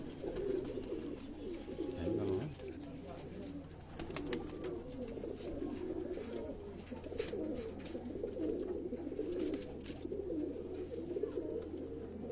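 Pigeons coo in a steady murmur on a rooftop, many low calls overlapping continuously at moderate loudness with faint background noise and occasional wing or handling sounds.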